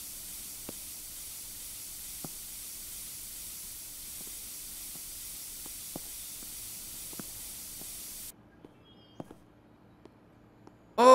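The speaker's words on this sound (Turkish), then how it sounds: "Birazcık da sprey sıkalım buralara." A spray can hisses in a steady continuous stream in the Internet Cafe Simulator 2 video game, with faint periodic clicks underneath, then the spray stops and a brief louder sound follows at the end.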